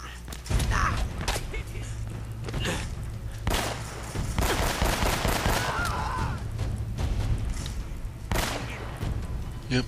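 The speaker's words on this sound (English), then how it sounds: "Yep, I get shot at." Gunfire aimed at the player in the video game Uncharted: Drake's Fortune, with repeated loud bursts of shots and impacts crackling over a steady game backdrop throughout.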